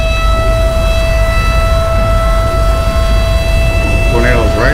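Police sirens in GTA V with the LSPDFR mod wail steadily and loudly throughout, holding constant tones over a dense rumbling background, with a brief burst of talk near the end.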